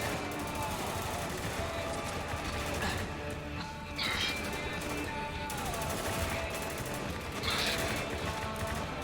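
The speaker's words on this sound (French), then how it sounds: "Mais qui me tire dessus, bordel?" Gunfire in the shooter video game Spec Ops: The Line, rapid automatic bursts and shots crackling continuously over a dense battle din, with a voice talking underneath.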